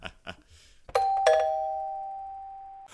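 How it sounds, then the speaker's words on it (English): A doorbell rings a two-tone ding-dong, the second note lingering and fading for a couple of seconds, preceded by brief soft knocks or clicks. "A doorbell on a podcast?"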